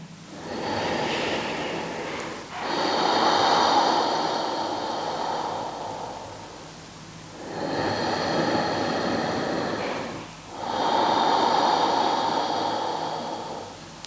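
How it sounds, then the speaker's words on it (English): Deep ujjayi-style yoga breathing through a slightly contracted throat, slow rushing inhales and exhales rising and falling like surf, about four long breaths close up with no talking. "we slightly contract the throat and we feel the breath passing up and down, creating an oceanic sound with the breath"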